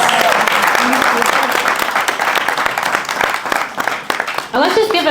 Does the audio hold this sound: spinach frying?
no